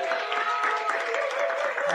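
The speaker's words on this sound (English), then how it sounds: "Give you everybody a round of applause real quick." A live comedy and podcast audience at the Ice House claps and cheers, a short, dense burst of steady applause with crowd voices mixed in, fairly loud and sustained.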